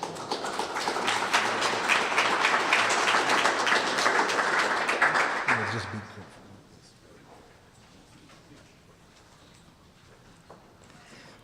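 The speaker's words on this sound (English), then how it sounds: "So give Shirley a big round of applause." Audience applause at an economic prosperity forum, a dense, loud wash of clapping that holds steady for about six seconds, then drops away abruptly to a quiet room with faint background noise.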